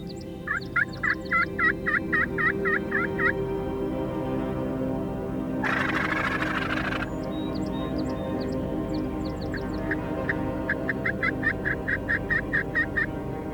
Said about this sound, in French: Il y avait plusieurs groupes de dindons dans la forêt.